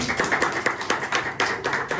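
An audience claps for a speaker at a public speaking workshop, a brief run of uneven, moderately loud hand claps with no talk.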